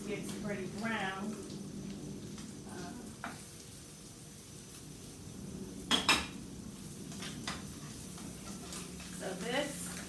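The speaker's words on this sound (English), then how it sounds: "Gravy, you have to stir it consistently until you get it to where you want it without burning it." Catfish gravy being stirred in a pan, with metal utensil scrapes and clinks over a steady low sizzle, a couple of sharper knocks partway through, with faint voice-like sounds in the background.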